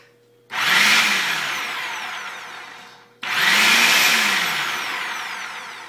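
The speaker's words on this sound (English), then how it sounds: "So I'll finish blending these, dump them in there, or however many I can fit." A kitchen blender pureeing tomatoes for canned sauce runs in two loud bursts of about three and two and a half seconds. Each starts with a sharp whirring surge, then the pitch slowly sags and the roar eases as the load churns.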